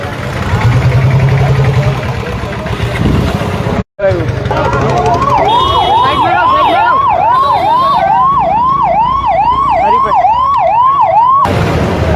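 A 108 ambulance siren at a road accident scene wails in a rapid, repeating rising-and-falling pattern, loud and close for several seconds after some voices and background street noise.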